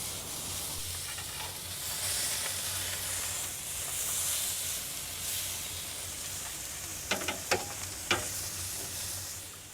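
Tri-tip steaks sear on a grill in a loud, continuous sizzle and hiss, with a few sharp pops and crackles near the end.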